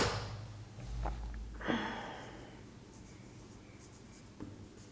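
Marker or chalk strokes on a board during a geometry lesson, a few soft scratching sweeps close by in a quiet room, with faint movement noises between them.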